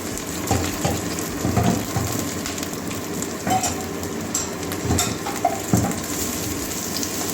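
Chopped garlic, onion and green chili fry in a pan while brinjal is being made, a continuous crackling sizzle with bursts of bubbling and stirring scrapes, fairly close and without talk.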